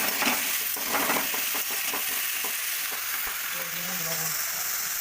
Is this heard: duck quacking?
no